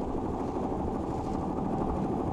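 A river boat's engine drones steadily at the start of a trip, a continuous low rumble with no breaks, moderately loud throughout.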